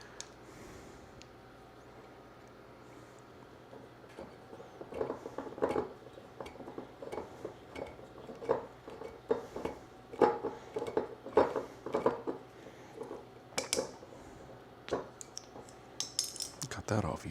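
Red wine bottle being opened, a run of close metallic clicks, scrapes and clinks from foil and corkscrew work that grows busier toward the end, with a faint background hum.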